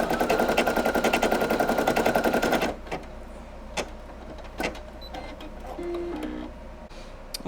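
Brother PE800 embroidery machine stitching an applique, a loud rapid mechanical rattle running steadily for a few seconds, then stopping, followed by quieter clicks and brief motor whirs.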